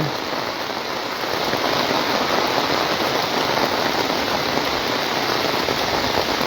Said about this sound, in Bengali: বৃষ্টি বেড়ে গেল